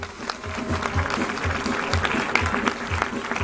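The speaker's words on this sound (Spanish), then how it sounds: "aplauso" Spectators at a Mexican theatre show at Six Flags México applaud a departing guest, a steady, dense wash of clapping from a crowd with voices mixed in under it.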